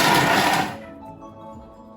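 A Thermomix blade whirs through brown onions at speed 5 in a short, loud one-second burst that cuts off abruptly, leaving a faint hum from the machine.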